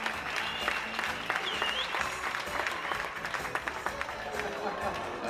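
An indoor crowd at a stallion show in an Icelandic riding hall claps steadily, a dense patter of applause that holds for several seconds while a voice talks over it.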